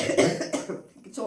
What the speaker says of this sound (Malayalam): ചുമ വരുന്നുണ്ട്